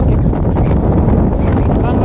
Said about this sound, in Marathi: चांगलं वारा सुटलंय बरं का